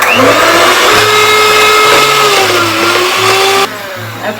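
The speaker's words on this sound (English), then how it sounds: "And we're going to whisk that until it's sort of" Electric whisk whipping double cream for a cheesecake runs loud and continuous with a high motor whine, the pitch shifting slightly as it works before dropping near the end.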